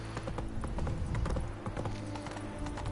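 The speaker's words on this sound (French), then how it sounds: "t'es limité dans la vitesse de galopage de ton cheval" Horse hooves gallop in a steady, rapid clip-clop rhythm in The Witcher 3, loud and continuous across the whole stretch with dense game ambience behind.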